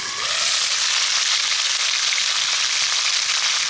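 Perch and crucian carp fry in a pan, giving a loud, steady, close sizzle with a broad bright hiss that runs without a break and has no talking over it.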